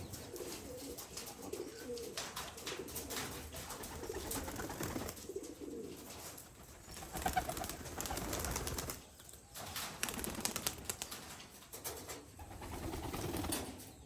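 Pigeons kept in a rooftop loft coo softly and continuously at a moderate distance, a low murmuring backdrop with faint wing flutters and no talk.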